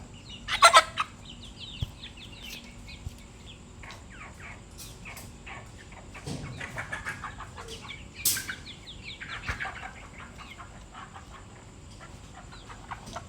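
Chickens cluck softly in a quiet coop, with scattered calls that rise and fall over about thirteen seconds and a couple of louder squawks.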